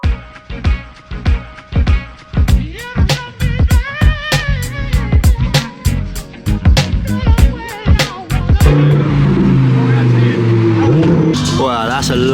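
A turbo-converted Honda Civic EK9 revs and pulls away in a run of sharp repeated engine bursts, then settles into a louder sustained drone, with someone talking over it.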